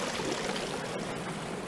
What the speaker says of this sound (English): Look, it is definitely filling with water.